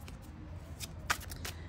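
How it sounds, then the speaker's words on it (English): Tarot cards are shuffled close and quietly, in a few crisp papery riffles and flicks with short pauses between them, against a soft low background hum and no talking. "We're going to get a good shuffle in before we let the cards fall."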